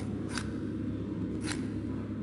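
Two quick scissor snips from the game Metal Gear Solid, spaced about a second apart over a steady low background hum, fairly faint with no speech.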